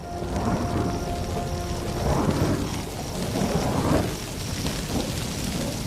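Thunder from a lightning storm over dry grassland rolls in long, heavy rumbles under steady rain, loud and full throughout, with no voices.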